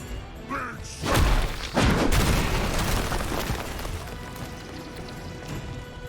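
An explosion detonated in the Midnight Suns video game hits as a heavy thud near one second, followed by a second booming crash and a long rumbling tail over a steady game-sound bed.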